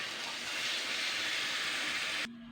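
Water hits hot frying spice paste in a pan for a drumstick and potato curry, giving a loud, steady rushing hiss that lasts about two seconds and then stops suddenly.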